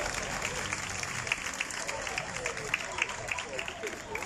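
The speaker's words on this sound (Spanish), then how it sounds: "Aplaudan, te quiero." An audience at a stage play applauds steadily with crowd murmur and some talk mixed in, the clapping moderately loud and continuous throughout.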